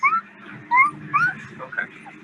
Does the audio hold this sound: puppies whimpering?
yes